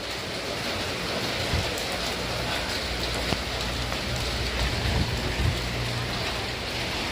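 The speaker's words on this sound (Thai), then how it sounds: "ฝนตกพี่น้องเลย" Rain falls steadily near a hospital in Thailand, a dense, even hiss close to the microphone that carries on throughout, with scattered faint knocks.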